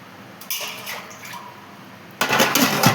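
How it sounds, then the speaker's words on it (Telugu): Water poured into a pot of curry with masala as it cooks, a short liquid splash followed by a louder, brighter gush of pouring near the end, close and with no talk. "కర్రీలో నీళ్ళు పడతాయి, ఎందుకంటే కర్రీ ఉడకాలి కదా."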